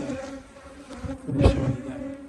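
A swarm of honeybees buzzes at an apiary, a dense close hum with single bees whining past, and one passes loudly right by.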